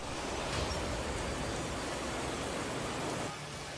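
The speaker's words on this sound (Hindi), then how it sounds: "पानी की रफ्तार इतनी तेज है कि वो अपने सामने आने वाली हर चीज को बहा ले जाने पर आमादा है।" Fast-flowing monsoon floodwater rushes across roads in Rajasthan, a steady, dense roar of water that stays loud and continuous throughout, easing slightly near the end, with no voices.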